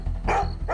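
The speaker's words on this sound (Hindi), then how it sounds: "वो ना जोर जोर से भौंक रहा था" A dog barks loudly in two or three close, harsh bursts, heard alone without talk.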